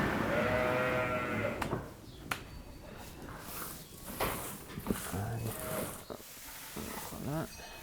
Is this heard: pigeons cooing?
no